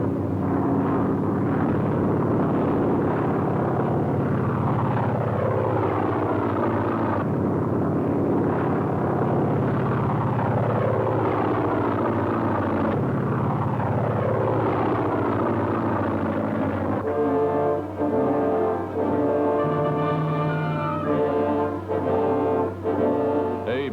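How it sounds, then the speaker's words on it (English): 1943 World War II Navy fighter planes dive on warships in a mock attack: loud, unbroken engine roar that rises and falls in repeated pitch sweeps as each aircraft passes, with no voices. "From the air, Navy fighters dive, simulating an actual attack as gunners fight them off."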